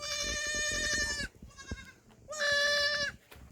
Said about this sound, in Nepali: ओइ बोका पो रहेछ उयो त